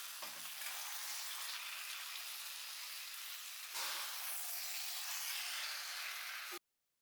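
Chicken pieces for chicken curry frying in a pan, giving a steady close hiss and sizzle with a brief clatter near the start, then stopping abruptly.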